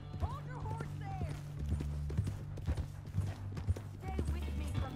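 Horses' hooves clip-clop at a steady walking rhythm in the Red Dead Redemption 2 video game, close and continuous under a man's dialogue, with soft tack and movement noises.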